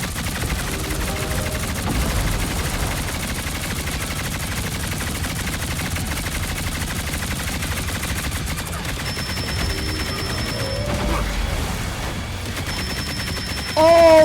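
Rapid gunfire in the hero shooter game Marvel Rivals, sustained bursts of shots throughout with game effects mixed in, under occasional player chatter.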